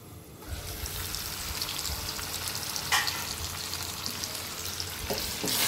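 Chicken curry sautés in a pan with a little water, a steady, fairly quiet sizzle and bubbling with occasional scraping stirs throughout.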